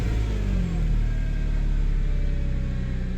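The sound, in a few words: 2001 Subaru Outback engine running, idling down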